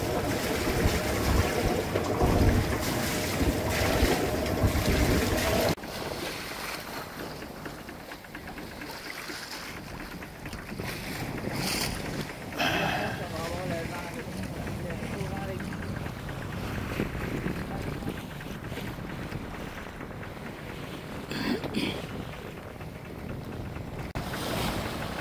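Sailboat under sail on a beam reach in a moderate sea with long swells off the coast between Boston and Cape Cod, giving a steady rush of wind and water; a voice talks over it early on.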